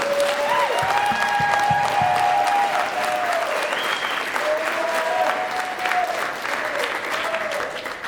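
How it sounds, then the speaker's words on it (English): Sustained crowd applause at Alfred's Got Talent 2024 for organizers Kelsey and Caitlin: a thick, continuous roar of clapping from a large audience, with whoops and cheering tones rising above it. "how about a big round of applause for Kelsey and Caitlin for putting this whole thing together"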